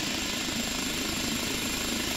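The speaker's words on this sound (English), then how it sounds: "And this is a fun little helicopter" Kiowa Warrior light helicopter in the DCS flight simulator, a steady, loud, continuous rotor and turbine drone with a broad whine, unbroken throughout.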